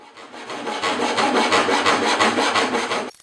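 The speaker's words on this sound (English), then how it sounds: "come back with the chisel and clean it up" A chisel scrapes in quick, rhythmic rasping strokes while cleaning up a scribed dovetail line in wood for a small cabinet, up close and continuous for about three seconds before stopping abruptly.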